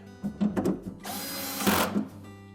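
A power drill drives retaining screws back in during a Whirlpool refrigerator evaporator fan blade replacement: short stuttering bursts, then a sustained whirring run close by with brief stops and restarts.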